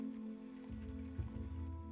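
Light drizzling rain patters steadily on a surface over a low, sustained tonal hum, with no voices.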